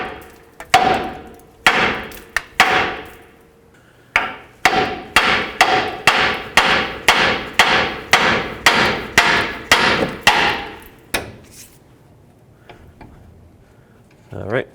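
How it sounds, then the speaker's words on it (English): Repeated hammer blows strike the steering knuckle of a 2001–07 Toyota Sequoia to break the outer tie rod loose: about fifteen sharp metallic whacks, first a few scattered, then a steady fast run, loud and close before falling quiet. "go ahead and hammer right here on the knuckle"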